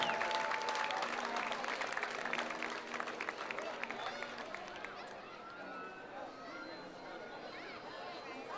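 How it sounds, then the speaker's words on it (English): Applause from a 4th of July parade crowd, dense clapping that thins and fades over several seconds, with a voice over a loudspeaker and scattered chatter mixed in. "Another round of applause."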